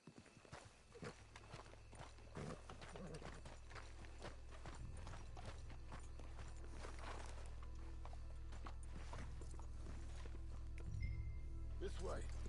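Horse hooves clip-clopping in the open-world Western game Red Dead Redemption 2, a steady walking gait with scattered irregular footfalls over a continuous low ambient rumble, with someone talking now and then.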